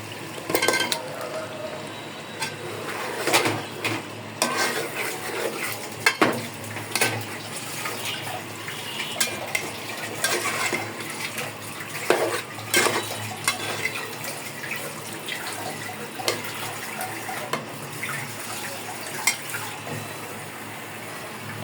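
Beef being stirred and fried with spices and turmeric in oil in a pot brings a low sizzle, with repeated spoon scrapes and metallic clinks against the pot at close range and no talking.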